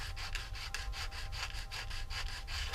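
A Guillow P-47 model canopy rubbed with a sanding block in fast, even back-and-forth strokes, a dry scratchy rasp repeating close up with no voice.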